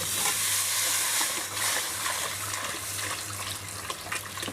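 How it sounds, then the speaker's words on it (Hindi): Water poured into tomatoes cooking in a pan, a steady broadband rushing and sizzling wash with a low hum beneath, continuous and fairly close. "मैं पानी डालता हूँ इसमें"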